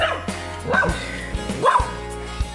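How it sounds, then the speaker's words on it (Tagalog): An angry dog barks and yips several times close by, sharp excited bursts with whimpery tones between them. "Galit na galit yung aso."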